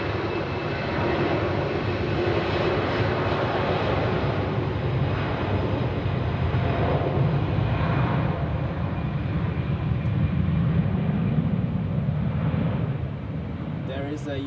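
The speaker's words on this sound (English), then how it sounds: "Now the Malaga, the Vueling Airbus will depart" A Vueling Airbus jet departing Zurich airport produces a broad, steady engine roar that holds at moderate distance for most of the span, then eases off near the end.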